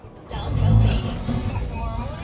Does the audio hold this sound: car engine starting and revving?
yes